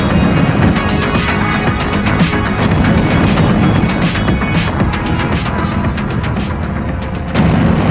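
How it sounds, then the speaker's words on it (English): Onboard explosives detonate on a freighter in the space game Everspace 2, a loud sustained roaring blast with heavy rumble and crackling debris that fills the whole stretch without pause, no talk. "Please attain some distance while I detonate the onboard explosives."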